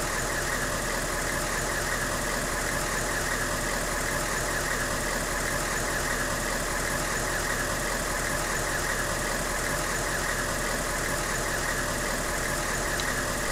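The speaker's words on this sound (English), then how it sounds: "Could you shut off the engine when we are not driving?" A Humvee engine running steadily, a loud, continuous rumbling drone that holds without change throughout, with no talk.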